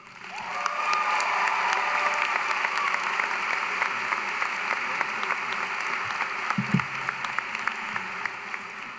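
Sustained applause from a large commencement audience at a university spring graduation ceremony, loud and steady for the full stretch, with scattered claps and a few cheers standing out, no speech over it.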